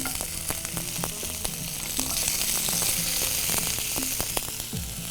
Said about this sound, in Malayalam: നമ്മൾ ഇതിനകത്ത് എണ്ണ ഒഴിച്ച് ചില ഉള്ളിയൊക്കെ വഴറ്റി വയ്ക്കുന്നേ ഇതിനകത്തോട്ട് ഇച്ചിരി കറിവേപ്പിലയും കൂടി ഇട്ടേച്ച്